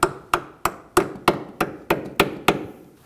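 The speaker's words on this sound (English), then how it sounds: "You can use a hammer to get this all the way in." A hammer taps a brake hose fitting into its bracket on a 2013-2015 Subaru XV Crosstrek, giving nine evenly spaced, sharp metallic knocks at close range with no talking.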